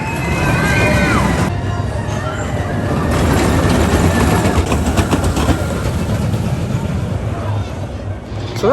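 Steady rumbling and rattling of a mine train roller coaster running along its track at Carowinds, continuous and fairly loud, with faint voices mixed in.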